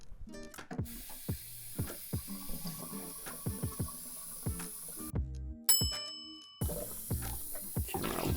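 Water runs from a tap into a sink and down a freshly repaired drain, splashing and clattering in uneven bursts with a few metallic clinks, close and moderately loud, with no talk.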